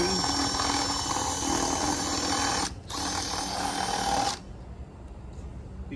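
A power drill whirs loudly and steadily while reaming a hole for a crankcase evacuation valve on a Ford F150 5.0, briefly pausing, then running again before cutting off, leaving quiet room noise.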